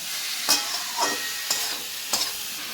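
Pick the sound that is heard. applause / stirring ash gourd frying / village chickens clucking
stirring ash gourd frying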